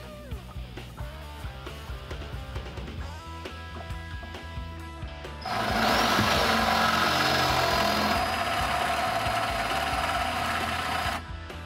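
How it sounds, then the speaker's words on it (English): A drill with a 7/16 bit cuts off the head of a rivet-style bolt on a 1967 Chevelle trunk hinge, starting with light scraping, then a steady high-pitched whirring grind that runs loud for several seconds before stopping. "We'll just drill the head off with a 7/16 drill bit."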